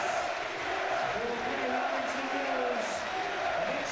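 A rugby league stadium crowd at St Helens versus Castleford roars and applauds a player in a continuous wash of cheering, with a commentator talking over it.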